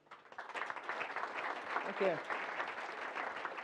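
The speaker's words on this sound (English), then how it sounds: "Welcome with a big applaud." Audience applause at a seminar on tall timber high-rise buildings, a steady patter of many hands building up and sustained, moderately distant, with a brief spoken thanks over it.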